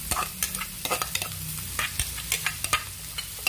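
Bottle gourd (opo) tipped into a pan of browned onions and sautéed, a loud steady sizzle broken by repeated sharp scrapes and knocks of a spatula, close by and without speech.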